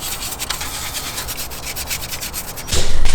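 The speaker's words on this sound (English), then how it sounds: "So let's do some brushing and work that Picasso wrist." Brush scrubbing surface rust off Mazda Miata turbo manifold parts, rapid rhythmic scratching strokes close up, ending in a louder, heavier rub.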